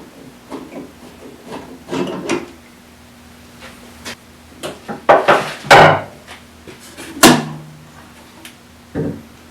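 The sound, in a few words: removing clamps from a glued wooden shelf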